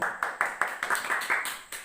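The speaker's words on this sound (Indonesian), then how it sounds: "Tepuk tangan dulu." A small group of students claps together in a classroom, about nine quick, evenly spaced claps in a short close burst.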